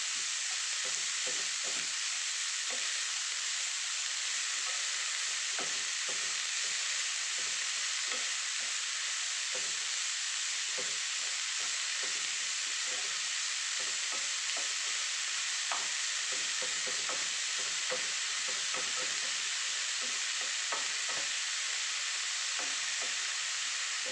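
Ingredients with tamarind are stirred as they fry in a pan. A steady close sizzle runs throughout, broken by frequent scraping and clicking from the spoon, with no talking.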